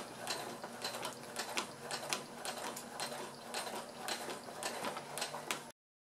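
A sewing machine stitches two layers of fabric for a cloth storage basket, running steadily at a slow pace with a continuous mechanical whir and rhythmic needle clatter, close and clear with no talking.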